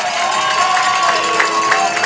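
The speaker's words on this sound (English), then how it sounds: "this crowd is electric" A crowd at a Neenah at Kaukauna high school football game roars and cheers in a steady wash of noise, with scattered shouts rising out of it.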